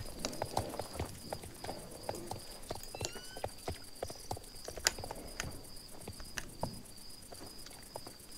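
A horse walks toward the stable in Star Stable Online, its hooves clip-clopping in a steady, soft rhythm over faint insect chirps in the background.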